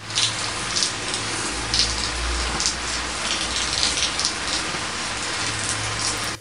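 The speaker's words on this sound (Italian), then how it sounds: "Rain chiaramente vi darà eh, l'effetto della pioggia." A rain sound effect from a sound library: a continuous wash of rainfall with dense drops pattering on a surface, even and steady with a low rumbling undertone, no voices.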